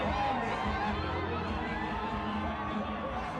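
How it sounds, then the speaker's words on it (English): A large stadium crowd of thousands of cricket fans cheers steadily as a batsman raises his bat, a dense roar of voices and whoops sustained loudly throughout. "He raises his bat to the cheer of thousands of fans gathered here"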